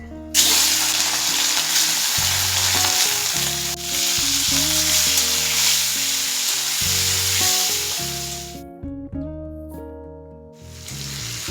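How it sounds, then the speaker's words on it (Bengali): Prawns frying in about two tablespoons of mustard oil in a wok, a loud steady hiss and sizzle throughout, with music playing over it and the frying fading near the end. "এবার তেলের মধ্যে চিংড়ি মাছগুলো ভেজে নেব।"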